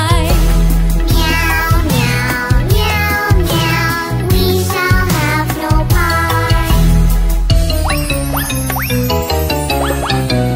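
Sung meows set to a bouncy tune with full instrumental backing, repeated several times in rhythm; a voice imitating a cat rather than a real one.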